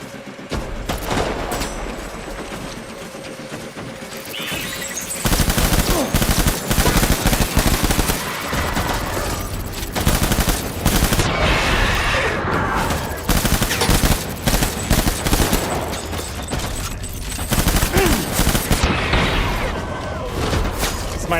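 Gunfire in Death Stranding, with loud sustained bursts of automatic shooting and booming impacts repeating across a long stretch of combat.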